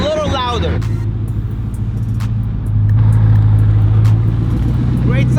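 Low, steady engine drone from inside a Bugatti Chiron on the move, rising slightly in pitch and loudness partway through, heard close and continuous with a voice briefly at the start.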